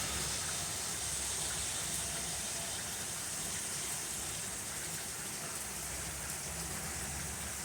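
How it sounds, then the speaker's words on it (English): Steady rain falls outside a garage, a dense continuous hiss of drops on surfaces that holds evenly from start to finish with no voices. "you think you hear it raining, you look outside,"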